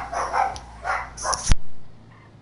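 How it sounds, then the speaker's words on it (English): Dogs barking in a few quick bursts at close range, ending in a sharp thud and a brief hush. "Looks like the dogs are going a little nuts."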